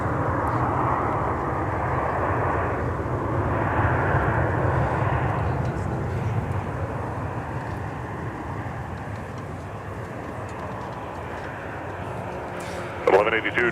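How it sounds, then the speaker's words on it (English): An Aer Lingus airliner rolling for departure on the north parallel runway at MSP airport, a loud, steady broadband jet roar that swells and slowly eases, with voices talking over it. "Aer Lingus is now on the runway on the north parallel. All right, should be departing momentarily."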